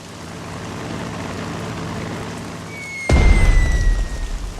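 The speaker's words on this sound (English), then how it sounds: "Select the bomber and attack the enemy infantry" A bomber attacks enemy infantry in the Pacific strategy game Strategic Mind: a sudden loud boom-like impact lands about three seconds in and rolls into rumbling debris, after a steady low hiss, with a high whistling tone above.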